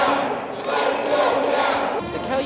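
University sports fans cheer and shout together to rally their team, a loud, sustained crowd roar with rising calls that shifts in tone near the end.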